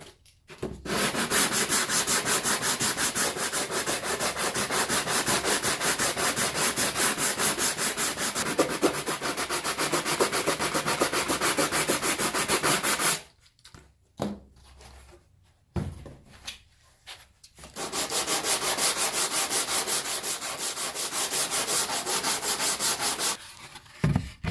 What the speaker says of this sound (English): So now I'm going to block sand all the sides